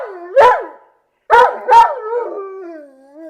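Timmy the dog barks loudly at the top of his voice while scraping at a bedroom door: three close, sharp barks, the last two in quick succession and trailing into a whining howl.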